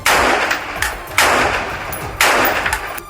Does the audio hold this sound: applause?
no